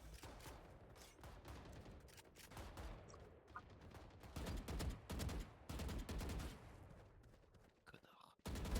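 Gunfire in the Valorant video game, rapid bursts of shots in a dense, compressed game mix, with murmured voices underneath.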